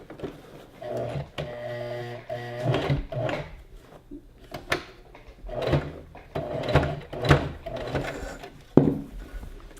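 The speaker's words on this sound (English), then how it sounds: "And we'll just put it under the machine and stretch it out. And sew it down." A sewing machine runs in short bursts as fabric for a gathered skirt with pockets is stretched and stitched down, its steady motor whine mixed with clicks and fabric handling nearby.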